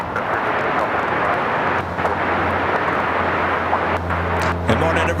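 An Airbus A380 airliner at Los Angeles International Airport gives a loud, continuous jet engine roar, steady and close across the whole stretch, with faint voice fragments in the background.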